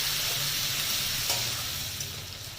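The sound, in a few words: spice paste of dried chili, ginger, garlic frying with onions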